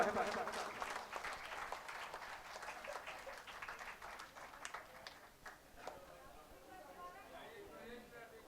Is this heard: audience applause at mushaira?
yes